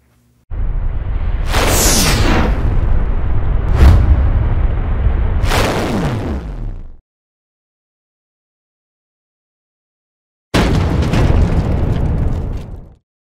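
Digital explosion sound effects of the kind supplied in PowerDirector editing software: several loud, whooshing booms come in quick succession, followed by a long silence and then one final blast.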